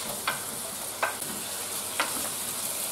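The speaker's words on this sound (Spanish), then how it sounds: "aquí en esta esquinita voy a dorar un poco el pollo" Chicken pieces browning in a corner of a paella pan beside the sofrito give a steady soft sizzle, with three brief sharper scrapes of stirring at roughly one-second intervals.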